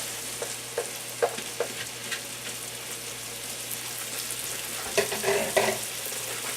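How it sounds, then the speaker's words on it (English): Vegetables get stirred in butter in a pan on an electric stove, giving a low steady sizzle with a few scraping stir strokes, busiest near the end. "Go ahead and stir these around so they're all coated with a little bit of butter here"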